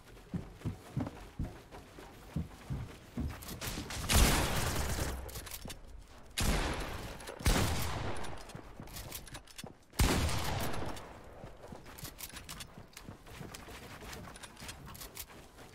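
Silex revolver firing in the Fortnite video game: several loud, sharp broadband shots around 4, 6.5, 7.5 and 10 seconds, spaced irregularly over a low game background with small clicks and footsteps.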